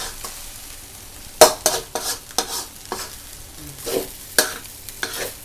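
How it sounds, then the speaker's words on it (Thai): Shrimp paste fried rice is stir-fried dry with little oil in a pan over a gas flame. A spatula scrapes and tosses in a quick, uneven rhythm over a low, steady sizzle, close by and alone. "ผัดแห้งผัดน้ำมันไม่ได้เยอะ"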